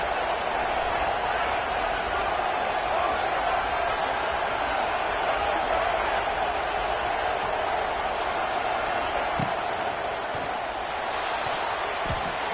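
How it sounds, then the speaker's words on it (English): A home crowd in a football video game roars in a dense, steady wash of cheering that stays loud and even throughout, with a couple of faint thumps near the end. "how nice is it to have the home crowd going absolutely bananas"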